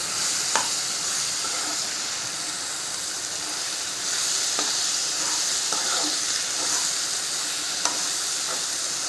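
Tomato and cauliflower fry on a low flame with freshly ground coriander powder, a constant close sizzle and hiss punctuated by occasional light stirring clicks.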